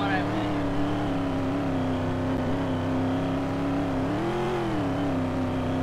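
A Raptor truck engine in the Roblox game My Life in Westover, running as a steady synthetic drone whose pitch rises briefly as it revs, close and continuous.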